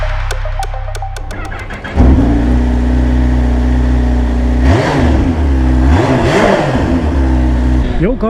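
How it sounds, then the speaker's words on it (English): A Kawasaki H2 SX SE motorcycle accelerates on a highway after a few short throttle blips, its engine droning loud and close with rising pitch sweeps as it shifts through gears. "Today I'm riding the Kawasaki H2 SX SE."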